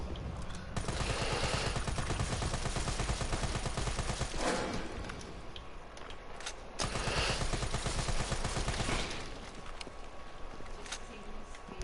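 Rapid bursts of M4 rifle fire in Resident Evil 3: Nemesis on Inferno difficulty, loud and close, in sustained volleys broken by a couple of short pauses.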